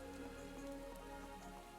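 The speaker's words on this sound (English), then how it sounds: "It's raining over here in the forest level." Steady rain falling in the forest level of the video game Phantasy Star Online 2, a continuous soft patter with faint tonal game music underneath, no voices.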